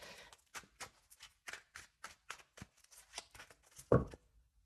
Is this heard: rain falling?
no